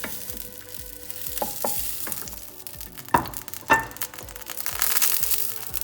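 Eggplant fries lightly in a pan: a soft, steady sizzle punctuated by scattered clicks and scrapes of stirring, with a few sharper clinks mid-way, close and moderately quiet.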